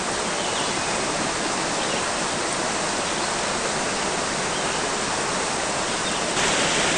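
A creek flows steadily beside a hammock in the woods, a continuous broadband rush of water close by with no voices, constant in level throughout.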